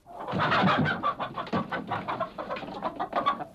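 Several chickens cluck in a busy, overlapping chorus, loud and close, with a steady run of short calls from start to finish and no voices over them.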